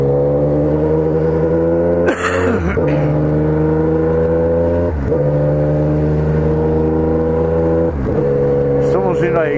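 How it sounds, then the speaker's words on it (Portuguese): A motorcycle engine drones steadily and loudly close by, its pitch dipping and rising with several gear changes on an uphill road; someone talks over the engine at times. "Outro cara subindo com a moto"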